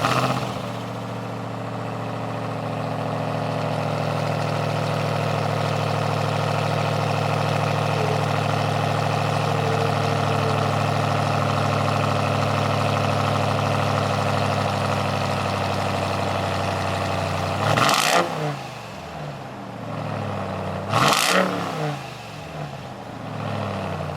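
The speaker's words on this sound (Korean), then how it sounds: "램 1500 이그니션 모델의 엔진 사운드를 한번 들어보도록 하겠습니다" Ram 1500 pickup truck with a 702-horsepower engine idling steadily and loudly for a long stretch, then two sharp revs near the end that rise and fall quickly.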